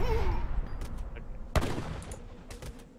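Heavy cannons firing in the real-time strategy game Age of Empires III, with a sharp booming blast near the middle amid dense battle noise and scattered smaller impacts.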